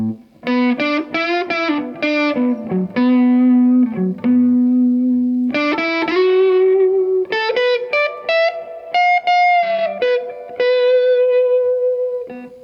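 An electric guitar plays single-note phrases through a Fender Tone Master Deluxe Reverb amp, a crunchy, lightly distorted tone with a noticeable reverb tail, loud and close.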